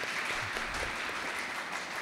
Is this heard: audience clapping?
yes